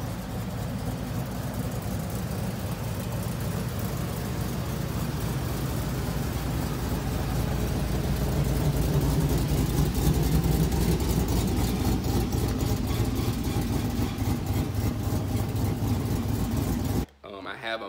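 A project car's engine idles steadily with the exhaust opened at the Y-pipe, a deep continuous rumble running loud and close for most of the stretch before cutting off abruptly near the end.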